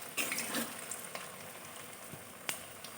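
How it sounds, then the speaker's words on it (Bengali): Green pea snacks deep-frying in hot oil, a faint, steady sizzle with a few soft clinks and splashes as pieces are added or moved, fairly quiet and distant. "এবারে আমি ভেজে নেব।"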